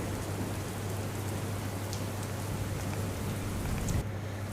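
Steady, dense heavy rain pouring down in Dwarka, a continuous loud hiss of drops on surfaces with no other sounds standing out.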